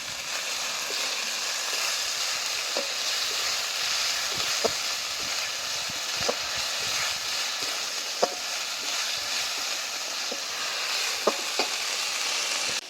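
Chicken coated in ground spice paste sizzles steadily in a pan, with a spoon scraping and clicking at irregular intervals as it is stirred, close and continuous with no talking.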